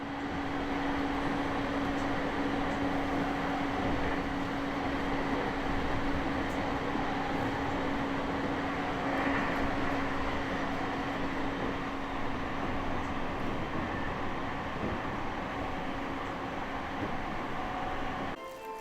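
A Japanese train running alongside the blue-striped Keihin Tohoku line between Yokohama and Kawasaki, a steady loud broadband rumble of wheels and carriage noise with a constant hum, unbroken for the whole stretch before a slight drop at the end.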